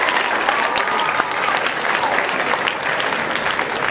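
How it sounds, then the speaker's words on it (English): Audience applause from a crowd gathered for a Christian speaker and chalk artist's event, a dense, steady wash of many hands clapping close and loud for the full few seconds, with no speech over it. "give yourself a round of applause."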